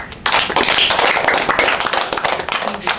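A classroom group of students claps together during a writing lesson, a dense burst of many hands clapping at once that carries on for about three seconds, close and loud.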